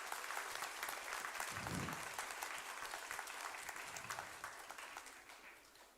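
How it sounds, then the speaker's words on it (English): Steady audience applause fills a conference hall at a future health conference, a dense wash of many hands clapping continuously at moderate level, slowly tapering toward the end. "Please give them a huge round of applause."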